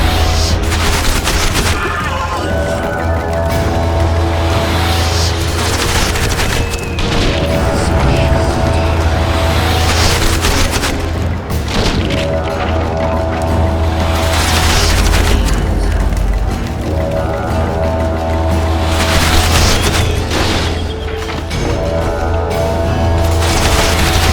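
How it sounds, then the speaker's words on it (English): Heavy gunfire and explosions crowd a battle scene in The Witcher 2: Assassins of Kings, a loud, unbroken barrage of shots, rattling volleys and booming impacts with a deep rumble underneath throughout. "Take cover! They're shooting!"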